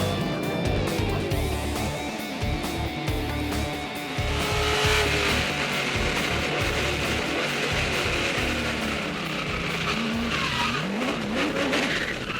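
A NASCAR race car spins out on track, its tires squealing and skidding over a steady roar of engines that lasts throughout, with faint voices in the background.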